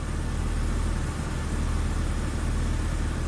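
A Saturn car's engine runs steadily after a crank no-start fault, giving a constant low rumble that stays even and moderately loud, with no talk over it.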